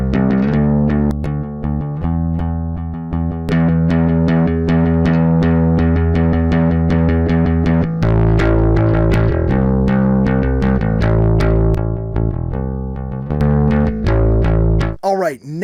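Bass guitar run through a free bass plugin that adds grit and character, playing a steady sequence of sustained, distorted notes with bright harmonic edges, loud and close, ending in a short swooping tone.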